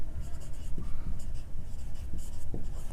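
A pen scratches out a maths equation in quick, short strokes, close and distinct, with no talking.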